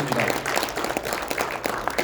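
Steady applause from an audience, a dense wash of clapping at even loudness throughout, with no talking.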